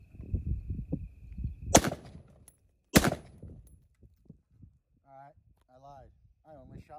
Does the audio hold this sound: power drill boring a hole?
no